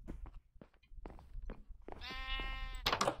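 A sheep in the Minecraft video game gives a drawn-out wavering bleat near the end, following scattered soft footsteps and clicks, with a brief sharp burst right after.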